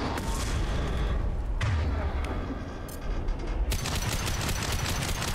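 Sustained, loud gunfire from shooting enemies in Mass Effect 2 runs as a continuous, crackling barrage under heavy combat noise, with a sharper surge of shots near the end.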